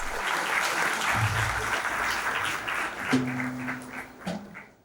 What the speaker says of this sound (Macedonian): Да го поканиме со еден силен аплауз.